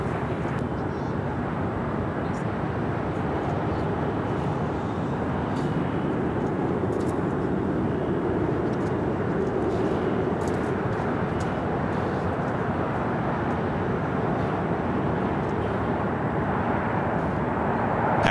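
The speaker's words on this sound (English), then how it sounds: "Emirates continues taxi down Alpha, heading to 25 left." Airliners, including an Emirates jet and an ANA Dreamliner, taxi toward the runways at LAX with a steady, broad jet-engine roar that holds from start to finish; a voice talks over it throughout.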